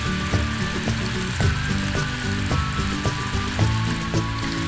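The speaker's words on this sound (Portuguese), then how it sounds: "Com o açúcar derretido e o caramelo já fervendo assim com a corzinha levemente dourada" Sugar and water bubble into boiling caramel over low heat in a pan, a loud, steady sizzling and popping with rhythmic clicks throughout, with no one talking.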